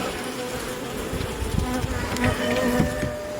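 Honeybees buzzing at an open hive during a colony inspection, a close, steady drone of many insects with brief louder passes of individual bees near the microphone.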